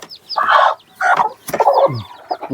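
A hen clucking on a farm as she is lifted from her nest, several loud, close, agitated squawking clucks in quick bursts with brief pauses between.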